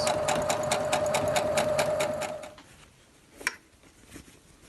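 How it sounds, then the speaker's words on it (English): A sewing machine stitching across a bag lining, a fast steady mechanical whir and rhythmic needle clatter running up close for over two seconds before stopping, followed by a faint click. "sew it across, just do a anchor stitch first"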